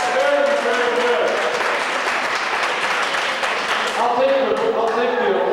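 Sustained applause from a crowd at a class reunion meeting, steady and full for several seconds, with a voice speaking as the clapping continues.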